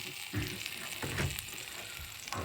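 Homemade brats slow-cook in their own juice in a pan over a small propane burner turned down very low, with a soft, even sizzle and occasional louder pops and spatters up close.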